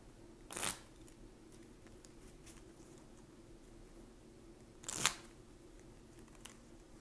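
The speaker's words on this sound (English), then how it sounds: "The cards kind of don't want to shuffle." Tarot cards are shuffled in two short, crisp riffling bursts a few seconds apart, close and quiet against a near-silent room.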